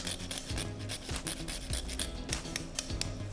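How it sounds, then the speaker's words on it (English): Fresh Indonesian cinnamon is grated over a dish of Arab-style spaghetti and meatballs, a quick series of close, dry rasping strokes in a steady rhythm, no voices. "give it a nice little fresh grate on top, just to bring out all of those elements of cinnamon in this dish"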